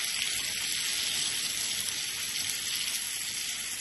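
Spinach and egg masala sizzles steadily in a pan, a continuous bright frying hiss with no pauses, close and fairly loud, with no talk.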